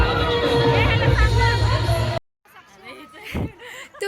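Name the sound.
crowd chatter at a wedding at Swaraj Palace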